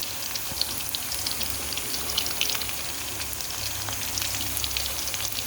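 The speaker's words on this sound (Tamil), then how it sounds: "இந்த சிக்கனை வந்து இன்னும் எண்ணெயில் பொரிச்சு எடுத்துக்கலாம்" Marinated chicken deep-fries in coconut oil, a soft, steady crackle of fine popping bubbles that runs on at low level without a break, with no voices over it.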